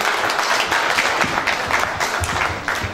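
Audience applause after a speech, a steady burst of many hands clapping together, moderately loud and continuous for a few seconds.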